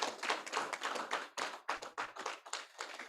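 A small symposium audience applauds a speaker with sparse, uneven hand claps in short bursts and gaps, close and distinct rather than a dense wash.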